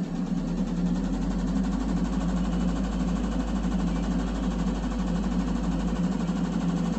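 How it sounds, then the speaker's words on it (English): Mitsubishi Fuso truck diesel engine with a faulty piston and excessive blow-by, running as a loud, steady close-up drone with strong low rumble; any rise in revs is barely noticeable. "what I'm going to do is I'm just going to increase my RPM"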